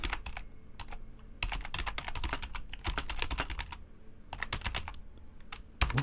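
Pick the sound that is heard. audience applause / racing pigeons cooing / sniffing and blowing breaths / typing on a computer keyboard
typing on a computer keyboard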